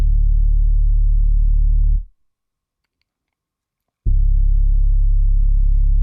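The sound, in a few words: synth bass one-shot from Trillion playing chord root notes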